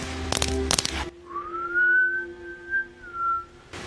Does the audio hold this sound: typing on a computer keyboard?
no